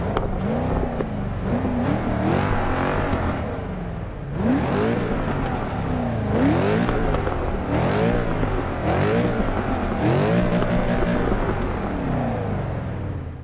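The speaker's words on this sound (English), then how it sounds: "Just a deep, grumbly V8." Deep, grumbling V8 of a 2016 Mercedes C63 AMG S Coupe in Forza 6, revving in repeated surges and rising sweeps, loud and close with no talk over it.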